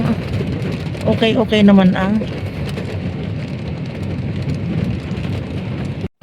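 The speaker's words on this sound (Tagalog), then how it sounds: "talagang bumuhos na ang ulan" Heavy rain pours as a steady broadband hiss through the whole clip while a person speaks briefly over it near the start.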